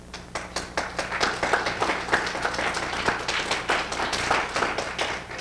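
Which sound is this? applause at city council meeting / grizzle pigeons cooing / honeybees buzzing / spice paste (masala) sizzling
applause at city council meeting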